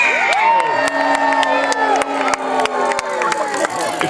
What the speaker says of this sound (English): If I try and extract the booing from the cheering, I'd say it's about almost even